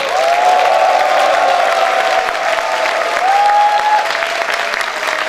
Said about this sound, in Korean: 청년 동지 여러분들의 뜨거운 박수와 환호성으로 청년 전진대회를 시작하도록 하겠습니다.